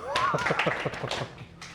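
Students in a second-year high school classroom clap in a quick, irregular run of close, dull claps while a voice talks over them.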